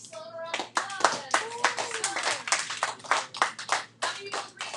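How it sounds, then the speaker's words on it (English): Classroom applause for a student in an algebra lesson, a small group of children clapping in uneven bursts for several seconds, close and lively, with a few young voices calling out over the claps. "Everybody give Sloan a round of applause"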